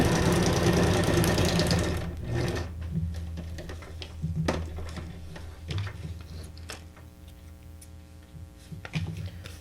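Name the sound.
sewing machine stitching a frame on a card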